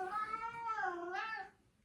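A cat gives one drawn-out, wavering meow, close and fairly quiet, with no talking over it.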